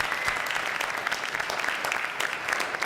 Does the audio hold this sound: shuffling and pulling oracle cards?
no